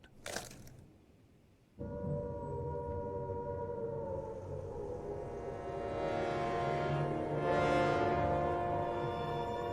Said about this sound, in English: In Britain, the air raid sirens had sounded within minutes of Prime Minister Neville Chamberlain's anno